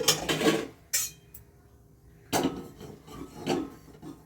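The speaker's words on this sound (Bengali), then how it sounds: "গ্যাসটা আবার ধরিয়ে দিয়ে আমি কড়াটা বসিয়ে দিচ্ছি" A metal kadai is set down on a gas stove in a home kitchen, giving a few short clanks and scrapes separated by quiet pauses.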